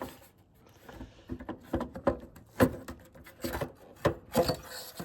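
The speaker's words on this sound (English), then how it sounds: "this headlight should just pop right out" Headlight assembly on a 1999-2007 Ford Super Duty truck being worked loose from its housing after two screws are removed, giving close, irregular plastic scrapes, rubs and a few sharp clicks and knocks, with no talk.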